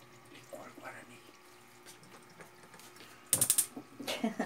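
A litre of homemade jerivá palm fruit liqueur is poured into a container, giving a short, loud splashing gush near the end after quieter kitchen sounds, with someone talking.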